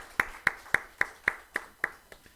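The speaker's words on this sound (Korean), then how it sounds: "우리 박수로 위로하고 격려하겠습니다" A church congregation claps in a steady, evenly spaced rhythm, giving about eight sharp claps that carry through a reverberant hall and fade toward the end, with no voices over them.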